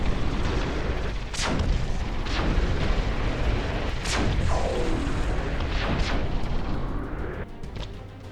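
Turrets fire in a futuristic tower defense game, Defense Task Force, a loud dense barrage of booming blasts and whooshing shots every second or so over a constant rumbling din.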